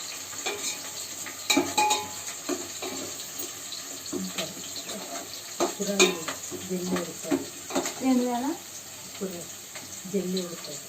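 Curry leaves hitting hot oil in a pan while cooking egg biryani, producing a bright crackling sizzle with bursts of spitting and stirring clatter, heard close and under a speaking voice.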